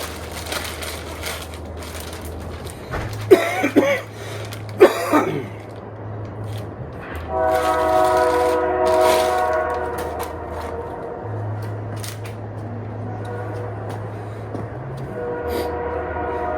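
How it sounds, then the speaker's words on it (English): A train rumbles past with a deep, sustained low drone and rattling, sharp knocks and clatter rising over it, then a steady harmonic horn-like tone in the middle. "And that's a train."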